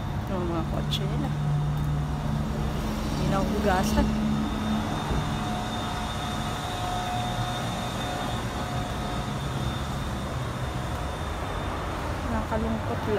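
Cars passing on a road with steady traffic rumble throughout, loud and continuous, while a person speaks over it.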